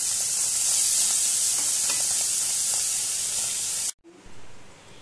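Paneer cubes fry in hot oil in a kadai, a loud, dense, steady hiss of sizzling that cuts off abruptly, followed by a short, quieter rumble.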